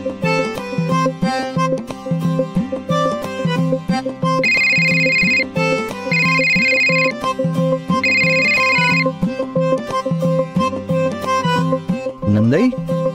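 A phone rings with an incoming video call, a steady repeating ringtone melody playing loudly for several seconds over background music in an indoor household drama scene.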